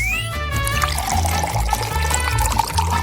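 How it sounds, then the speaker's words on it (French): Boiling water poured into a glass, a steady liquid splash and trickle running throughout, close and fairly loud, with a rising fill tone. "Et je rajoute de l'eau bouillante."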